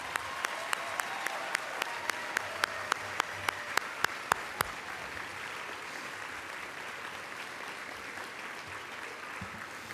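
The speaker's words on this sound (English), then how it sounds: "Now we applaud." Audience applause at an awards ceremony dinner, the Crystal Apple Awards, with a few distinct sharp claps standing out early over a steady wash of clapping that continues, moderately loud, for ten seconds.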